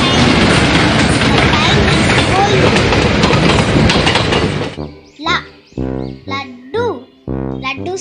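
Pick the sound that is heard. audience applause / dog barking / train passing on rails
train passing on rails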